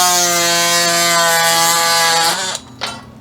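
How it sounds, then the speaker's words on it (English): A bench vise is cranked tighter in a workshop, its screw giving a loud, steady grinding rasp with a strong mechanical whine that runs for over two seconds, then stops, followed by a short creak as it seats. "I'm going to tighten down the vise a little more."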